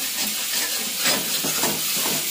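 Spice masala frying in oil in a pan, a steady close sizzling hiss with faint stirring scrapes, continuous throughout with no talking.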